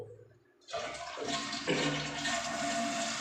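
Toilet flushing after a short quiet moment, with a sudden loud rush of water that keeps churning steadily as the cistern tank begins refilling, recorded close in a small bathroom.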